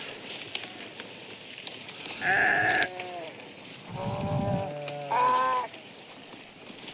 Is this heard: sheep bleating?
yes